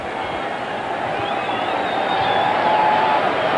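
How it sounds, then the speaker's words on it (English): A football stadium crowd at a 1996 NFL playoff game between the San Francisco 49ers and Green Bay Packers gives a dense, steady roar of many voices after a short running play. The noise holds from start to finish and swells slightly toward the end. "you'll hear the crowd react to this"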